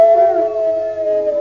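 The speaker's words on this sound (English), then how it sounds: "There's a whole pack of horrible hounds." A pack of hounds howls outside at night, a steady sustained howl at moderate distance with no talk over it.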